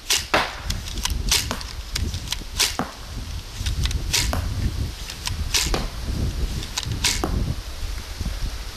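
A mini repeating crossbow fires six bolts in quick succession, each shot a sharp snapping crack with a twang, close and loud, over a steady background rush.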